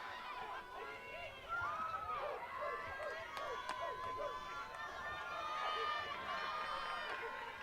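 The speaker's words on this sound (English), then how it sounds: "Cheering from the Viking dugout and their faithful fans here at Viking Field." Crowd at a Viking Field softball tournament game, with steady cheering and excited chatter from the Viking dugout and fans, a continuous mid-level roar of many voices.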